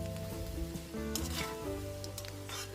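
Local street-style egg chowmein stir-fries in a pan with a steady, close sizzle, punctuated by a few scraping tosses over a constant low hum.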